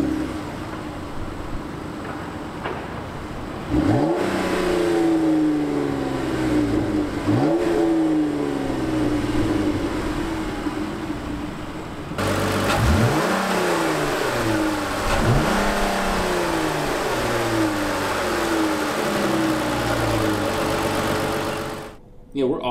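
A 2016 Chrysler 200 with a V6 engine idles, then is revved several times in quick bursts, each rev rising sharply and falling back, loud and close.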